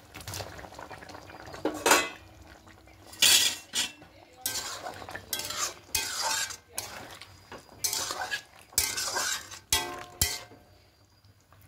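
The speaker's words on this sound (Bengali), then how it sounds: "এবার এখানে ভেজে রাখা পনিরগুলো দিয়ে দেবো।" Fried paneer pieces go into a simmering, half-cooked potato gravy for a vegetarian aloo paneer, with repeated spoon-on-pot clatter and scraping stirs over a soft bubbling simmer, fairly close, no voices.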